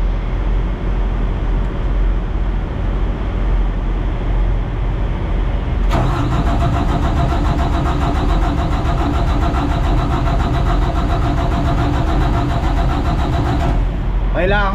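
A genset engine is cranked and catches partway through, going from a low rumble to a steady mid-pitched running drone that continues evenly to the end, with voices talking nearby.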